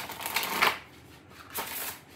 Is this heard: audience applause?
no